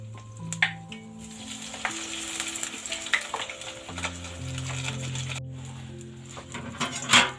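Sfenj dough rings frying in hot oil and turned as they cook, a gentle sizzle with scattered pops under a steady low hum and a few clinks near the end.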